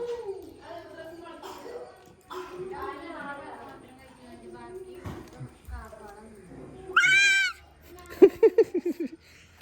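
A cat lets out a few wavering, high-pitched meows near the end, mixed in with people talking nearby and some short sharp repeated yelps.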